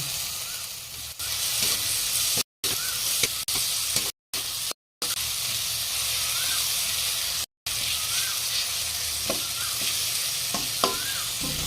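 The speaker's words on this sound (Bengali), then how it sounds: "ভালো করে একটু মশলাটা কষাবো। এবারে দিয়ে দেবো বাদাম।" Spice paste with peanuts sautéing in a pan for a pumpkin chhokka, a continuous close sizzling hiss with occasional stirring scrapes, broken by a few brief silent cuts, no talking.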